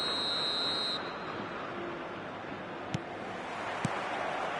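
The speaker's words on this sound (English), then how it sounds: "There's the whistle." A referee's whistle in a football video game gives one steady, shrill blast lasting about a second over a constant roar of the stadium crowd, followed by a couple of brief faint clicks.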